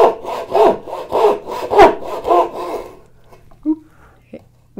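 A hand saw cuts wood for houndstooth dovetails in quick, rhythmic back-and-forth rasping strokes, close and loud, then stops, leaving faint knocks and handling sounds.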